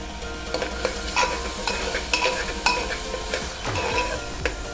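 Onion with turmeric sautés in a pan for Kolhapuri mutton rassa, a continuous sizzle overlaid with frequent spoon scrapes and clinks as it is stirred.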